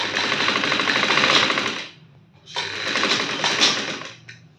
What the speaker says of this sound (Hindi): सिलाई लगानी स्टार्ट कर दें।